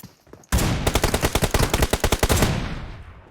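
Automatic gunfire in the PUBG Mobile video game: a sudden loud burst of rapid, evenly spaced shots lasting about two seconds, then a fading ring-out, with no talk.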